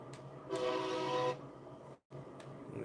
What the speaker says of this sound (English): It does have kind of a quiet horn.